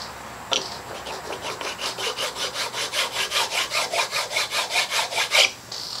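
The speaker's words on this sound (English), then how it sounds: "using this tool here, which is basically a scraper" A metal scraper flattens filler on a large oak dining table. It makes a steady run of rhythmic, raspy back-and-forth strokes, close and clear, with about twenty even passes and no talk.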